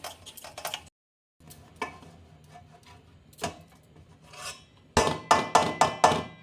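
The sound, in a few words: grating homemade paneer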